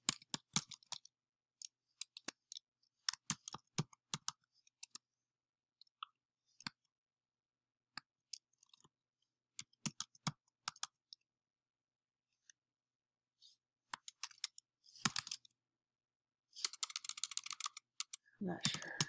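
Typing on a computer keyboard while filling in an account form: sparse, faint key clicks at an irregular pace, with a denser flurry of taps near the end.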